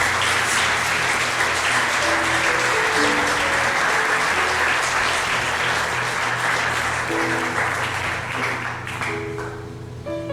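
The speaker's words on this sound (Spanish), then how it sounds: "Dele un aplauso a Dios, déselo fuerte" A church congregation applauding loudly and steadily for about ten seconds, dense sustained clapping with faint music underneath and no break.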